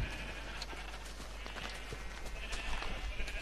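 Sheep bleat in Minecraft, several short nasal calls scattered over a few seconds, rather faint above a steady hum of game background noise.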